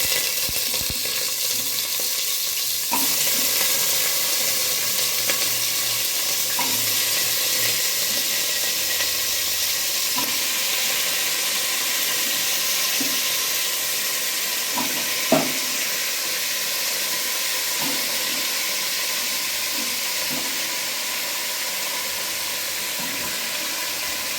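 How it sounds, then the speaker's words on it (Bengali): Pumpkin pieces dropped into hot oil with tempering spices set up a steady, close sizzle and frying hiss that runs the whole time, broken by occasional soft knocks and one sharper clink. "এগুলো ফোড়নগুলো গরম হয়ে গেছে, এবার কুমড়োটা দিয়ে দেবো।"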